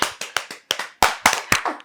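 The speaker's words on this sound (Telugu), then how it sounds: "claps claps" A small group claps hands at an interview, sharp bursts of applause in a quick uneven rhythm of about eight claps, close and alone with no talking.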